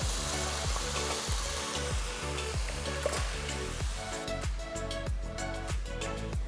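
Cooked dal stirred into a hot pan of coriander powder and salt, giving a steady close sizzle broken by regular rhythmic scraping strokes of a spoon, with no talking.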